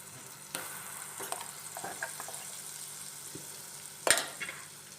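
Green chickpeas with turmeric and ground masala paste fry in a pan, a soft steady sizzle broken by a few scraping stirs and one sharper clack of the spoon.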